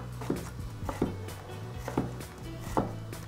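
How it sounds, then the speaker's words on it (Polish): A knife chopping celery, carrot and parsley into small cubes on a board, four distinct, evenly spaced thuds, fairly quiet and close, with no talk. "Seler, marchewkę i pietruszkę. I to wszystko kroimy w drobną kosteczkę."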